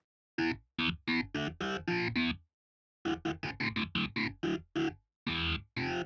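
Short bursts of distorted electric guitar from a software guitar plugin with amp distortion, a quick run of choppy chords, a pause, then another flurry of gritty strummed hits.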